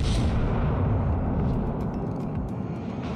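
Naval shells boom against an island in World of Warships as a dense, rumbling roar of distant gunfire and impacts, steady and loud throughout with faint crackling bursts on top.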